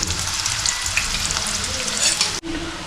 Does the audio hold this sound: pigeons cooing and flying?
no